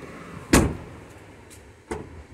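A Volkswagen Polo unlocking itself as its key sensor detects the key nearby: a sharp close mechanical clunk of the locks, then a fainter second click a moment later.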